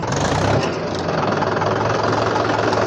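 A Mahindra 415 DI tractor engine runs steadily nearby, a loud, continuous diesel drone with a rough knocking texture and a slight dip in pitch early on, with no talk over it.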